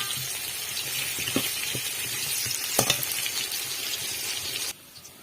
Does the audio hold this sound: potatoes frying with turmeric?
yes